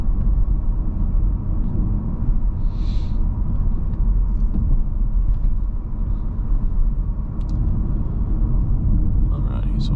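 A 2023 Audi A5 Sportback 45 Prestige cruises along a road, giving a steady, loud low-frequency rumble of engine and tire noise throughout with no clear breaks; a brief higher chirp rises about three seconds in.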